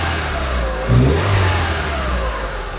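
A Renaultsport Twingo 133 with around 100,000 miles idles nearby, then revs once in a short, rising burst before settling back to a steady idle.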